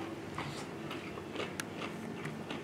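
Crisp crunching bites into fried redear sunfish repeat every half second or so, close and fairly quiet, with a few sharper cracks among them.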